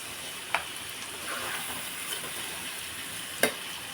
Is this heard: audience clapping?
no